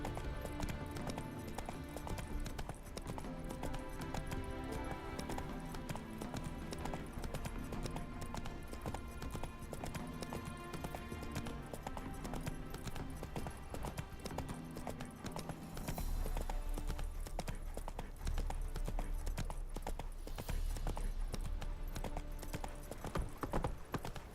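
Steady hoofbeats of a horse trotting in the video game The Witcher 3, continuous clip-clop under game music and ambience, louder in the final stretch.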